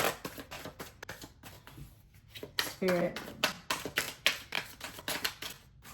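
Quick crisp riffling and slapping of tarot cards being shuffled, repeated in short bursts, with a voice speaking briefly over it.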